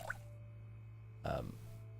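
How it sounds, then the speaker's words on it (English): A water bottle being filled in the survival video game Project Zomboid: a brief liquid splash and plop about halfway through, standing out over a steady low game hum. "we might as well fill up our water bottle whilst it's in our hand"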